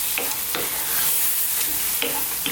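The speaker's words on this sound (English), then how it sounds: "I'm going to stir this." A chicken, spinach and double cream garlic sauce is stirred in a pan over low heat, with a soft continuous sizzle and a few distinct scraping strokes up close.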